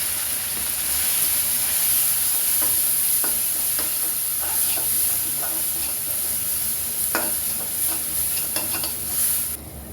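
Cubed potatoes stirred into ginger and garlic paste in a hot pan, with steady sizzling and hiss under repeated scraping and clinking of the spoon, close and continuous, without speech.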